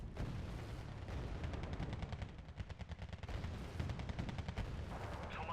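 Distant artillery shelling and rapid gunfire from a Wargame: Red Dragon battle, a steady dense barrage of repeated thuds and cracks with no pauses across the whole stretch.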